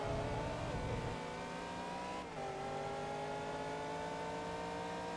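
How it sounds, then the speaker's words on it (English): A high-pitched Ferrari racing engine in a racing video game holds a loud, sustained whine, its pitch shifting slightly mid-way, heard steadily from a distance without talk. "Can hear that Ferrari from here."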